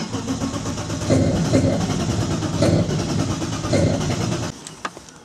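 BMW E36 turbo car engine cranking and briefly catching in repeated loud pulses, each attempt surging for about a second before dying back, ending with a few sharp clicks and fading quiet.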